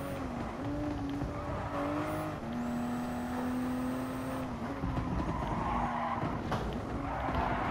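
A Gran Turismo Sport race car slides and skids around a circuit, engine droning loudly while long tire squeals rise and hold in sustained tones, continuous and close, with no speech.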